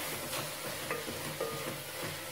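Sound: sautéing spices in a pan

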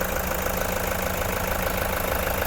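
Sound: Toyota Commuter 3.0 diesel van engine idling

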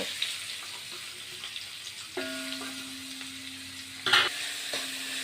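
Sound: onion, garlic and curry leaves sautéing in oil for beef curry

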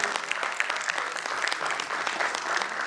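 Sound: audience applause at a convocation

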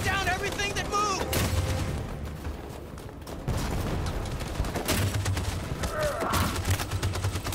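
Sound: machine gun fire, from video game Detroit: Become Human

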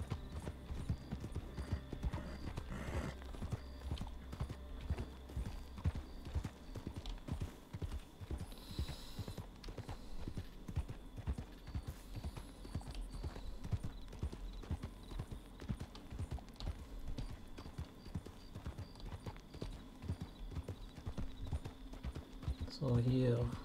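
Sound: horses riding in video game Red Dead Redemption 2

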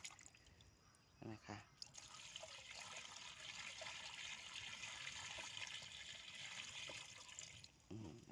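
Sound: water pouring into sprayer tank

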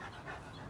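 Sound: dogs panting while trying to play

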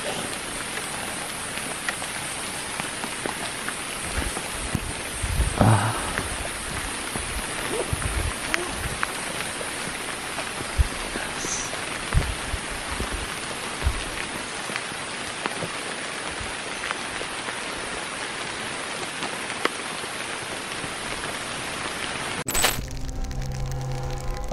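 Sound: light rain falling during a road journey in Java

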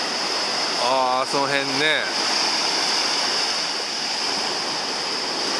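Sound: ocean waves at a beach carrying pumice stones

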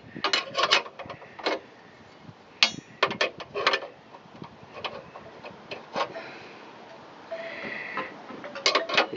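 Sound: wrench turning bolts while installing a trailer hitch

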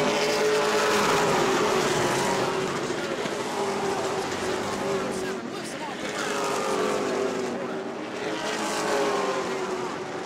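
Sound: race cars racing on oval track

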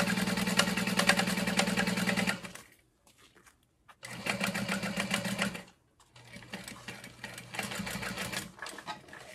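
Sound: sewing machine basting stitch on wristlet clutch

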